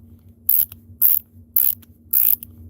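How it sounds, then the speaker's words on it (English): Ratcheting mechanism of a hand tool binding: four separate bursts of clicking, roughly evenly spaced and fairly close, each a short rasp of ratchet teeth over a low steady hum, with no talking. "the ratcheting mechanism can be a pain in the butt"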